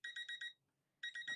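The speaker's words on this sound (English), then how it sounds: "there's my 1 hour timer." A one-hour timer alarm goes off nearby with bright electronic beeps in quick groups of four, a short silent gap, then the beeping starts again.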